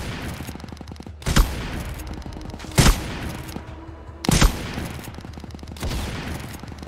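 Gunfire in the Roblox game Headcrab Infection: three loud, sharp shots spaced a second or more apart over a steady background rumble, with faint rapid firing in between.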